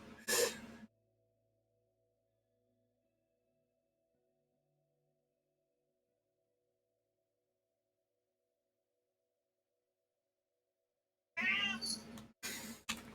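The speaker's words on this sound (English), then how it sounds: "I think the cat wants out" A house cat meows near a streamer's desk, wanting to be let out: a short cry at the start, a long silence, then a longer string of insistent, close meows and caterwauling.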